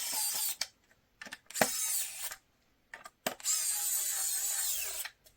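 KAIWEETS ES20 electric screwdriver running in short bursts, a high whirring motor buzz that starts and stops several times, close up, with quiet gaps between runs.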